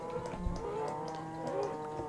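Cows moo in the Minecraft video game, several drawn-out bovine calls overlapping steadily and fairly loud, with no talk.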